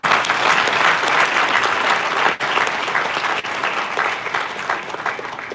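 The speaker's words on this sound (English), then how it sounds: "A round of applause for her." Audience applause following a keynote speech at a live farm event, a dense, steady wash of clapping hands that holds strong throughout with brief dips, no talking over it.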